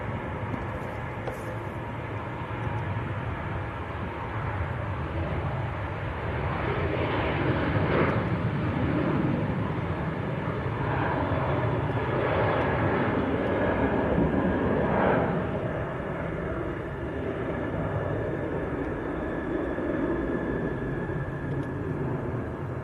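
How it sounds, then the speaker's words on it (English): Ryanair Boeing 737-800 beginning its takeoff roll at Leeds Bradford Airport, a steady broadband jet engine roar that swells gradually and holds loud throughout, heard from a distance with no talk. "This Ryanair's about to roll."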